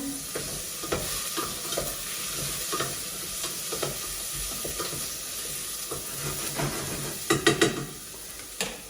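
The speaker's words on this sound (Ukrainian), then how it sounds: "І воно смажиться." Vegetables sizzle and crackle steadily in a hot pot, with occasional scrapes and clinks of a utensil stirring them.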